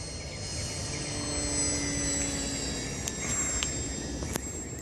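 A Visionaire RC model airplane flies overhead outdoors, its electric motor giving a steady buzzing drone with a sustained high whine, moderately distant, with light wind and handling noises.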